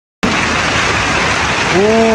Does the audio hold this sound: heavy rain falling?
yes